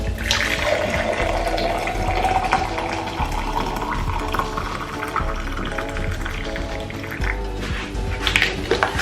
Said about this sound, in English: so I'll add hot water.